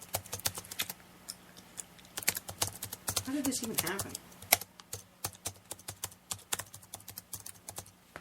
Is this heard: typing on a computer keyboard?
yes